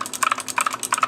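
Close, quick typing on a mechanical keyboard with O-rings fitted under the keycaps gives a rapid run of soft, muted clacks in short bursts.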